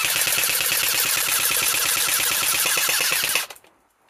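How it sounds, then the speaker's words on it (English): An electric AR-15 airsoft gun fires full-auto at scales near a camping hut: a loud, rapid, continuous burst of close shots for over three seconds, then stopping abruptly into quiet. "So this is David winding up his electric AR-15 airsoft. Here he goes, safety glasses on, and we're firing at a... Scales."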